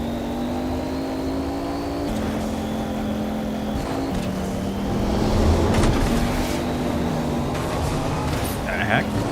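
A car engine drones steadily while driving in Fortnite, its pitch holding level and shifting a few times, with a voice talking over it and brief clatter near the end.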